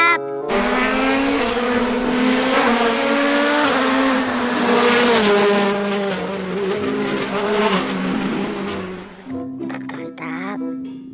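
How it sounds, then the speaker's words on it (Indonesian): Race car sound effect from a toy, a loud continuous engine roar with rising revs and tire squeal, steady for about nine seconds before tapering off into clicks and handling noise. "Wih, mobil balap."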